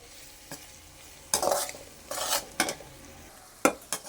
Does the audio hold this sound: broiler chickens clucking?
no